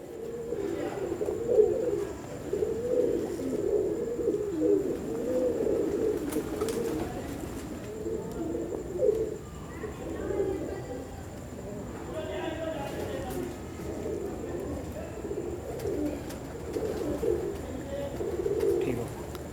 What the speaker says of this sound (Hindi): ये मेरे प्रिंस कमगर कबूतर हैं।